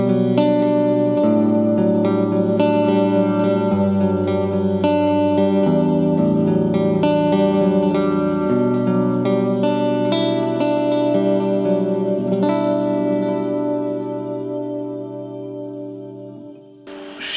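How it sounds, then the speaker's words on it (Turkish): A clean electric guitar plays sustained chords through a Nux Mighty Space amp with shimmer reverb, notes blooming into a lush, washed tail that fades out near the end with no voices. "Reverb'de Shimmer var. Shimmer çok güzel bir reverb."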